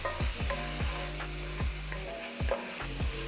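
Chili and garlic stirred in a hot skillet for a chili hot dog, with a steady sizzle under repeated scraping strokes of the utensil across the pan, close and fairly loud, no voices.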